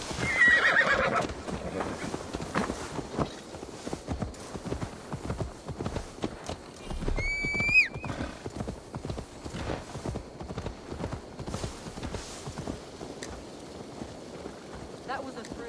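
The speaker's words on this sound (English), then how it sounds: "Now to deliver Magni his horse." A horse in Assassin's Creed Valhalla clip-clops steadily through the English countryside, with one sharp neigh midway, while voices talk throughout.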